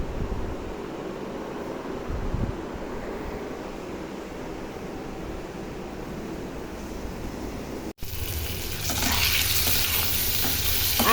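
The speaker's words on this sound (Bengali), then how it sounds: "আলু ভাজি করে নিই" Potatoes fry and get stirred in a pan, a soft continuous sizzle and scraping that grows noticeably louder and busier near the end, with no talking.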